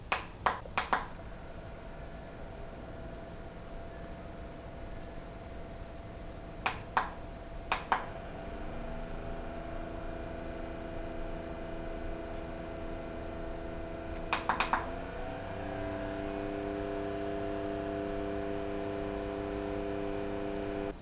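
A foldable portable fan runs with a steady motor drone, punctuated by sharp button clicks as it shifts through speed settings, each step raising the hum.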